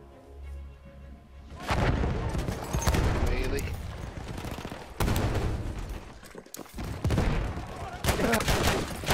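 Shotgun fire in a shooter video game comes as several loud, heavy blasts and bursts of gunfire, with short gaps and rumbling echoes in between.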